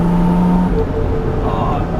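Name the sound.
car exhaust pops and crackles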